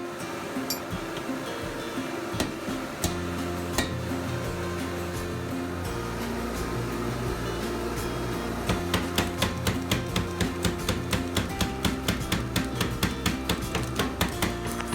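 Rhythmic metal-on-metal hammer blows on a hand-and-a-half sword bar, driving a fullering tool to indent the top and bottom of the bar for the tang; steady ringing strikes speed up into a fast, even series, loud and close.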